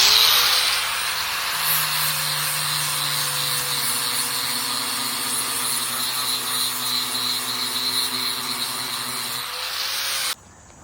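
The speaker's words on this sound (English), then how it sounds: "And then we'll get flapper discing." A flap disc on an angle grinder sands a cross built from pallet boards, a steady loud whine with an abrasive rasp running continuously for about ten seconds before cutting off abruptly.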